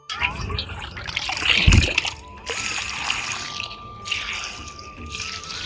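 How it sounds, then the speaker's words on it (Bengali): Water trickles and splashes into potted plants on a rooftop, given in small amounts onto soft soil, with a louder gush early on and quieter dribbling afterward. "অল্প অল্প জল দিচ্ছি, যেহেতু মাটিটা নরম আছে, অল্প অল্প করে জল দিচ্ছি।"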